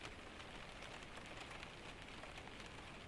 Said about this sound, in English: Listen to the rain.